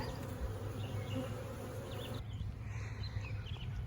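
Honey bees buzz steadily around an open hive, a continuous droning hum with scattered nearer passes of individual insects over the whole stretch.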